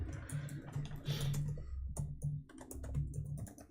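Rapid typing on a computer keyboard: busy, close-up key clicks that rattle on in bursts with brief lulls, over a steady low background hum and no speech.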